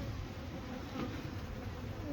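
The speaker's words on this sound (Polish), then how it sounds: "Trochę pszczoły się nazbierało" Bees buzz around pollen traps at a hive, a faint, continuous drone heard from a short distance, with no talk.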